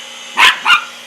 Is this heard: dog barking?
yes